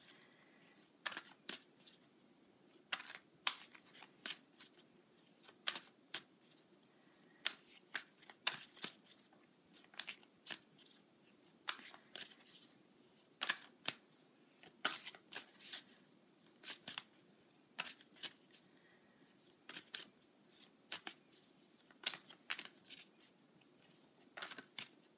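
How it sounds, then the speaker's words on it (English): A moon tarot deck is shuffled over and over, giving a long run of crisp, close riffles and flicks in uneven bursts, separated by short quiet gaps, with no voice. "I would like to pull a card from my moon deck"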